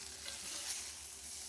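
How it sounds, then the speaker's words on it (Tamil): Eggplant and other vegetables are stirred in hot oil in a pan, a brief, fairly quiet hiss and sizzle with soft scraping, close by and without talking. "இப்போ இதை வந்து நல்லா வந்து எண்ணெயில் வந்து கிளறி விட்டுறலாங்க"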